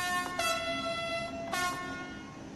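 Horn of a train in a train simulator game, two loud tonal blasts close together, the first short and the second longer, over a low engine hum.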